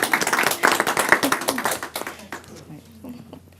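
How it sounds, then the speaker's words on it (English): A small group claps for the winning agency at Pledge A Palooza, a brisk burst of nearby hand claps that thins out and fades as voices talk over the tail end. "Let's give her a round of applause."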